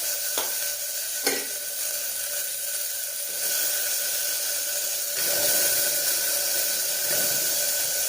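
Vegetables dropped one by one into a hot pan with raw cumin seeds, a loud close sizzle and hiss with a few sharp clatters early on and the frying surging louder as more pieces go in.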